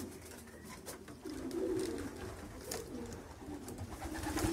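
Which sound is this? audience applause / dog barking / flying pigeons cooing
flying pigeons cooing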